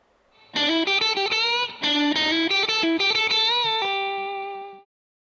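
Electric guitar plays solo licks with a distorted, effects-laden tone: a quick run of picked and bent notes that ends on a long sustained note fading out.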